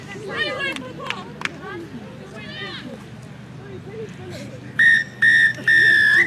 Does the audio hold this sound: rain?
no